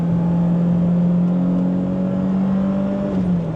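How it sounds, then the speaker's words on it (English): BMW E30 M3 engine revving hard through a corner, a loud steady high-pitched drone close by from inside the car, held for several seconds with a slight pitch rise and dip near the end. "the way I can comfortably rev out the engine in a corner is a really new thing to me"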